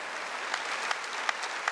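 Congregation applause during a Korean church Wednesday worship service, a steady, moderately distant patter of many hands clapping with a few sharper individual claps standing out at a loose rhythm.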